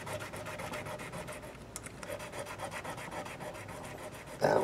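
Guitar frets on a PRS copy are cleaned and polished by hand, making a quiet rapid back-and-forth rubbing rasp in a steady rhythm, close and faint.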